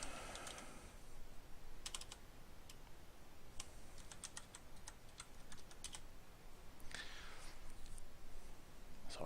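Fingers typing a password on a computer keyboard, a quiet run of irregular, light key clicks with brief pauses, close and alone.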